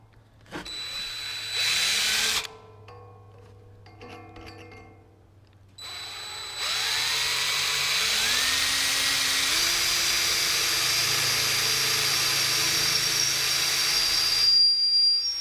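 A power drill bores and steps up bolt holes in a steel truck bumper for a 2006 Ford F150: short whining runs that rise in pitch, then a long, steady, loud high-speed whine near the microphone, with no talk.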